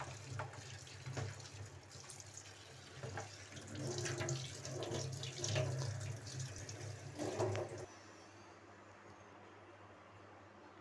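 Water pours from a tap into a vessel of vegetables for pav bhaji, a steady rushing stream for several seconds that then cuts off to quiet room noise.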